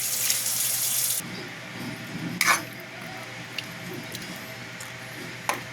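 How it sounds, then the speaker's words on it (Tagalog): Water pours into a pot of pork liempo kare-kare, a brief rushing splash at first, then a quiet simmering hiss with a few small clinks of utensils. "Lagyan natin konting tubig guys,"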